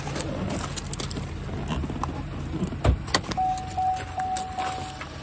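The hood latch of a 2011 Chevrolet Camaro RS pops with a single short, close clunk partway through, against quiet background noise, followed by a faint steady tone.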